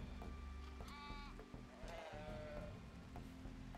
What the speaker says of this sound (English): I have so many goats.